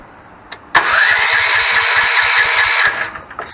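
Starter motor cranking steadily on an engine that refuses to fire, a loud continuous whirring grind lasting about two seconds after a brief click, then winding down; close and without speech.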